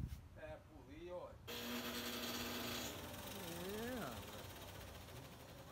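A shoemaker's finishing machine sands and polishes shoes in a cobbler's shop in Aracaju, giving a steady motor whine that rises and dips in pitch, heard close and fairly loud with people talking over it.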